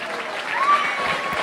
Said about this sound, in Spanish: Fuerte el aplauso, amables aficionados.